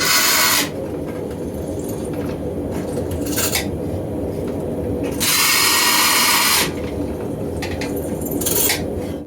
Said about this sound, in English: we're going to go ahead and drill some holes in the tang.